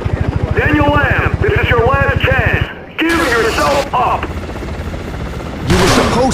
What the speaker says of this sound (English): supposed to lose the damn helicopter.